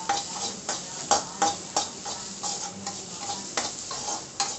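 Bitter gourd peels and chopped onion sauté in a dry pan, with soft sizzling under a regular rhythm of spatula strokes scraping and tapping the pan, close and moderately loud.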